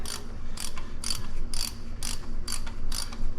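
A ratchet with a 1/2-inch socket backing out thermostat housing bolts on a Jeep TJ Wrangler 4.0, giving rapid, close clicking pawl strokes in quick repeated bursts over a steady low background hum.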